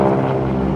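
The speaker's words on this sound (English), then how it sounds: "That wonderful growl you hear is not just the sound of the engine, but actually the sound of the propeller tips going supersonic" A low, rich growl from a vintage propeller aircraft at a joint-services air show, loud and sustained with a dense rumble and layered tones, the propeller tips going supersonic, with no talking.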